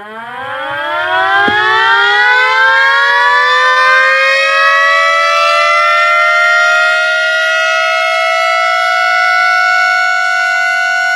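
A 3D-printed mini STH-10 siren winds up into a loud, sustained wail that holds steady and close for about ten seconds, with a brief click near the start and no talking.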